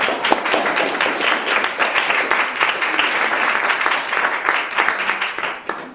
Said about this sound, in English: I think they need some applause.